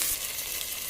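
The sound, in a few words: vegetables being sautéed in a pan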